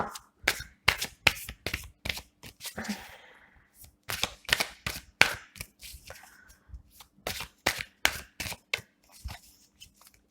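Tarot cards shuffled and cut by hand, a run of sharp riffling bursts and slaps in irregular rhythm with brief pauses between, close and crisp in a quiet room.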